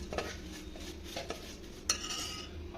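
Flattened rice, jaggery and cut banana being mixed together in a bowl, giving soft scraping and stirring with a few light clinks of a utensil against the bowl, close by and with nobody talking.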